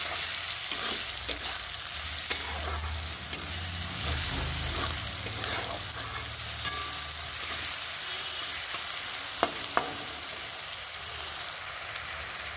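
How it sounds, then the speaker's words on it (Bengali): Onion and green chili fry in oil in a pan, a continuous soft sizzle and crackle with occasional spatula scrapes and clinks against the pan, fairly quiet throughout. "এটাকে সুন্দর করে আমি ভেজে নেব।"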